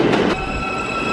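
New York City L subway train pulling into a station, wheels squealing with sustained high metallic tones over a loud rumbling roar, close and continuous.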